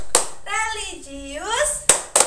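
A first-grade classroom clapping chant led by a teacher: sung vocal phrases rising and falling, with sharp hand claps at the start and two crisp claps near the end.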